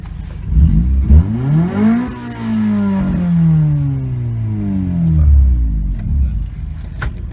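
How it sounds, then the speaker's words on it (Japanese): A 1989-era Honda Civic SiR II (EF9) with a B16A VTEC engine revs up and down several times, the pitch sweeping high then falling back, loud and close, with a throaty aftermarket exhaust tone. "アイドリングは静かですが、回せばいい音がします。"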